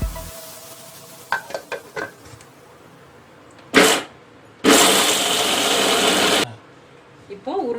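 Mixer grinder jar grinding soaked chana dal with a little water into a fine paste: after a few light clicks, the motor gives a brief pulse, then a roaring whir of about two seconds before cutting off sharply.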